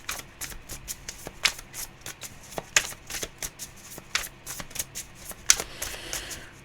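Tarot cards are shuffled by hand for a reading, with crisp riffling and slapping bursts that come in an irregular rhythm, close and moderately loud, with no talking.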